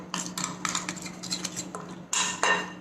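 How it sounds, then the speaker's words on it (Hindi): A spoon briskly mixes curd, lemon juice and other ingredients in a bowl, producing quick clinks and scrapes against the sides in close, irregular bursts. "अब ये सारे इंग्रेडिएंट्स को हम अच्छी तरह से मिक्स कर लेते हैं."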